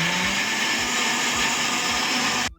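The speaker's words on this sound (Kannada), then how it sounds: "ಸ್ವಲ್ಪ ನೀರ್ ಹಾಕಿ ಇದನ್ನ ಮಿಕ್ಸಿ ಮಾಡ್ಕೊಳ್ಳೋಣ." A kitchen mixer grinder grinds soaked dosa batter with added water. The whir is loud, close and steady, with a thick churning rumble throughout, and it cuts off abruptly at the end.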